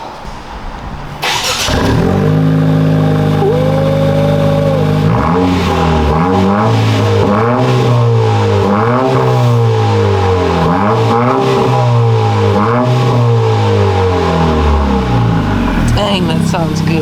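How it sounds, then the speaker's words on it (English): A Honda Civic Sport Touring with a new Borla S-Type exhaust catches and settles into a loud, close, deep exhaust rumble, then revs up and down repeatedly in rising and falling swells. "we got the exhaust on, got the car down, see how it sounds."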